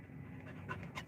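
Higgins the dog pants close by in quick, breathy rhythmic puffs over about a second, with a few louder snuffles toward the end.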